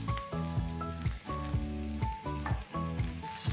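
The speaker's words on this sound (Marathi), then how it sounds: "कांदा आपल्याला फार असा भाजायचा नाही आहे, त्याचा फक्त कच्चापणा जो आहे तो निघून गेला तिथपर्यंतच आपल्याला भाजायचा आहे" Chopped onion fries in a pan over a medium-high flame for a spicy chicken rassa curry, a soft continuous sizzle heard beneath background music.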